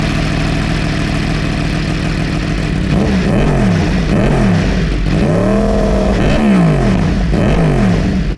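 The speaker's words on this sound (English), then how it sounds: "A crossplane basically sounds like a baby MotoGP V4 engine." A crossplane motorcycle engine fitted with an SC Project exhaust idles loudly, then revs repeatedly in rising and falling blips, close and dominant throughout.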